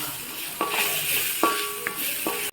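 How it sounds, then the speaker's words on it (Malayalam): Chicken curry being stirred in a pan after coriander powder goes in, a steady sizzle with a few sharp scraping strokes of the spoon, close and alone, stopping abruptly at the end. "നന്നായിട്ടൊന്ന് ഇളക്കുക"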